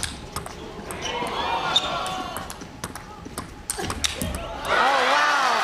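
At the 2021 ITTF World Championships, in a women's singles round-of-16 match between Suh Hyowon and Doo Hoi Kem, a table tennis ball clicks in a quick, irregular rally under commentary. The crowd noise swells sharply as the point ends.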